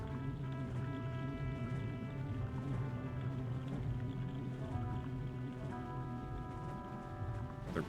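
Boats move across water in Zelda: Majora's Mask 3D, a faint, steady droning hum with layered tonal engine-like tones and a soft watery wash beneath, continuous and quiet throughout.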